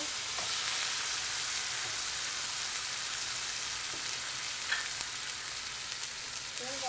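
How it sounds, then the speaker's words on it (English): Onion and tomatoes sautéing in a pan while a salted-fish, dal and spinach meal is cooked, giving a soft, continuous crackling sizzle with a few faint utensil taps, no speech. "I just have some onion sauteing in the pan here."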